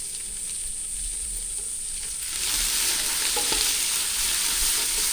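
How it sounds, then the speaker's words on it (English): Garlic and bacon fry in a pan for a Bolognese sauce or chilli con carne, a steady close sizzle that swells louder halfway through as ingredients hit the fat, with stirring crackles and no voices. "add the garlic and the bacon. Continue to fry it."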